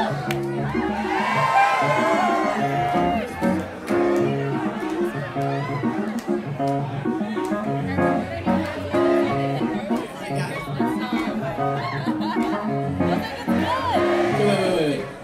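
Concert crowd at a show in the Teragram Ballroom cheering, whooping and shouting, dense and loud throughout, with music and chatter mixed in.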